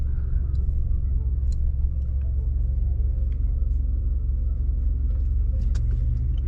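Steady, loud engine rumble from a rally car running a stage at the Rally Sprint 2023, close and continuous with faint clicks and knocks over the drone.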